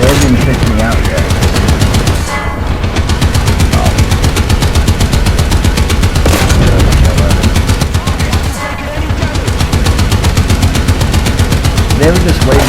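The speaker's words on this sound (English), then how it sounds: "Shell after shell is going into that tank." Heavy gunfire and tank shell blasts from a Sherman tank battle game on a Japan map, dense rapid bursts and booms running continuously and loud throughout.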